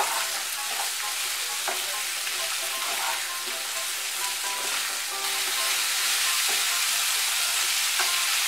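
Bitter gourd and pumpkin fry in a pan with salt for a Bengali chechki, a dense, close sizzle with intermittent clicks and scrapes of stirring, no talk.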